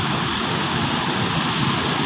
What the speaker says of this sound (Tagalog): Lakas ng tubig oh.